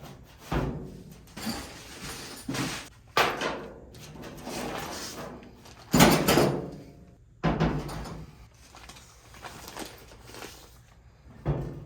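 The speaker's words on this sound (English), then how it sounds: "I'm going to close the garage door" Rumbling, rattling panels roll and clatter with several heavy thuds as a large garage door is drawn down and shut, loud and close.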